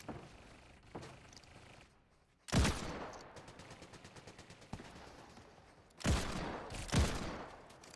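Gunfire in the video game Fortnite (Zero Build mode): two separate bursts of shots, fairly faint and set against quiet game ambience, with no voices.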